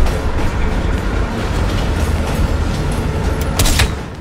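A train rolls along its tracks in the video game Call of Duty: Black Ops Cold War with a loud, steady rumble, the noise filling the whole time and swelling slightly toward the end.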